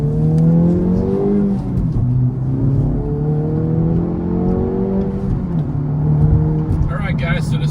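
A 2026 Acura Integra Type S fitted with an adjustable Whiteline rear sway bar drives on a road test, its engine droning loudly and rising and falling in pitch as it accelerates, heard from inside with a brief voice near the end.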